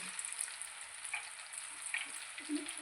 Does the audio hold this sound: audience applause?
no